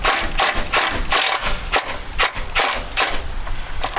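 A hand ratchet fitted with a T40 Torx bit works on a Jeep Cherokee brake caliper, giving a close, rapid series of clicking pawl strokes in an uneven rhythm.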